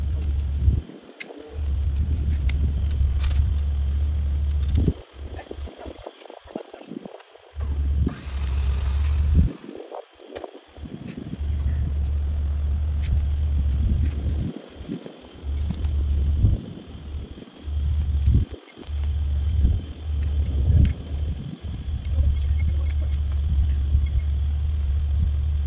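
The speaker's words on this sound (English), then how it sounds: "I'm going to winch inch by inch. Because the winch is slow and controlled." Winch slowly pulling an off-road vehicle during an off-road recovery, a steady low motor rumble that keeps cutting off and restarting in short bursts, with wind noise on the microphone.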